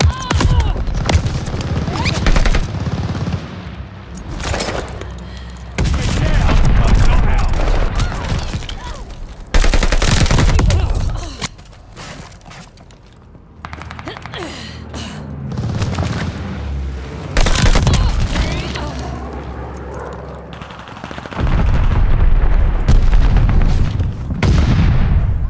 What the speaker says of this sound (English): Incoming bomb.